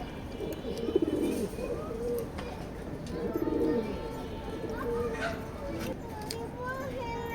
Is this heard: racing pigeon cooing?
yes